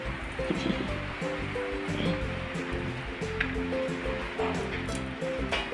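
Freshly picked jute leaves being washed by hand in water, a steady close splashing and sloshing with faint voices talking underneath.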